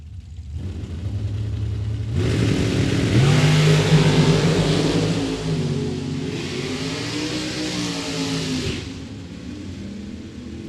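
A pair of drag racing cars in a 50-and-over gamblers race at Mid Michigan Motorplex launching down the strip, engines roaring loudly and rising in pitch before fading into the distance.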